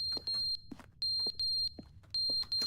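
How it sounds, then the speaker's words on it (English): A smoke detector with dead batteries chirps inside The Stanley Parable: Ultra Deluxe, sounding as three bursts of sharp, high, paired electronic beeps at a steady rhythm, fairly close and clear, with no one talking. "Oh, the smoke detector batteries have died."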